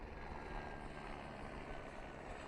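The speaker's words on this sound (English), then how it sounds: "The helicopter." A steady rumbling drone of a helicopter flying overhead at a beach, continuous broadband noise with no distinct change in pitch, moderately faint and distant.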